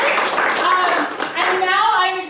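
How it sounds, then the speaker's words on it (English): Audience applause at a live science show, a short burst of clapping mixed with overlapping voices and chatter from the crowd. "Let's give one other round of applause for Junyi."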